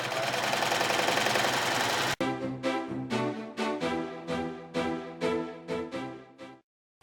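Sewing machine stitching black strips of woven placemats: a continuous run of fast stitching, then about a dozen short separate bursts of stitching with brief pauses between, close and fairly loud.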